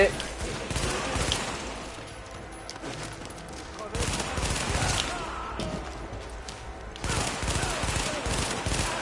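Rapid bursts of gunfire from the video game The Division, dense volleys coming in waves with brief lulls, loud and close, with game effects layered underneath.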